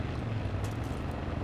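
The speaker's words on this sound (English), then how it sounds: "Is that another vehicle? That's a helicopter," A helicopter in the video game Far Cry 5 gives a steady low rotor and engine rumble that holds without a break, with no voices over it.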